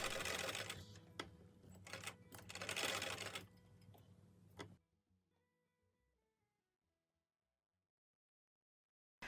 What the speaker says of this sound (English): To add more strength, I'm stitching through the toe and heel pieces in a spiral.